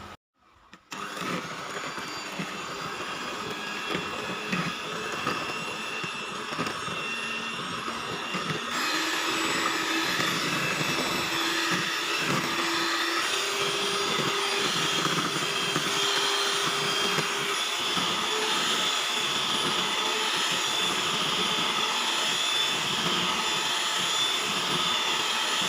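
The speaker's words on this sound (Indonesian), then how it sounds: "Pertama kita lakukan adalah mengocok telurnya ya." An electric mixer whirs continuously while beating eggs for a pandan sponge cake, a loud steady motor drone starting abruptly, with its pitch stepping up slightly partway through as the speed rises, no talking.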